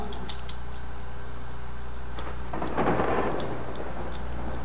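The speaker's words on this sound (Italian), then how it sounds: "ok brutto tempo con temporale pesante" A heavy thunderstorm in the dinosaur park game Jurassic Park Operation Genesis, with a low continuous rumble and a louder thunder roll near the middle over a steady hum.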